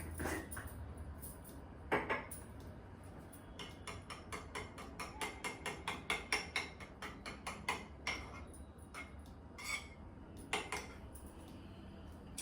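Eggs with salt and pepper powder beaten in a bowl, a run of quick, regular clinks of utensil against the bowl, close and moderately loud, without talk.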